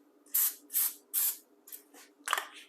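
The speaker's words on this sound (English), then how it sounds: "We're going to spray the waffle iron." Several short hissing bursts of cooking spray, three even pumps followed by quicker, lighter spritzes, close and clear.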